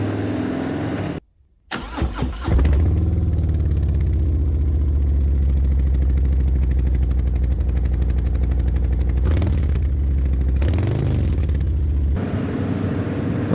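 A 2023 120th Anniversary Harley-Davidson Fat Boy cranks and fires, then settles into a loud, deep, lumpy rumble with a few throttle swells before the sound cuts off.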